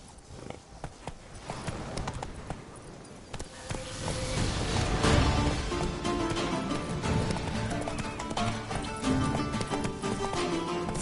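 Geralt's horse Roach gallops in The Witcher 3: Blood and Wine, a steady run of hoof clip-clops under dense game music and ambience, loud and continuous throughout.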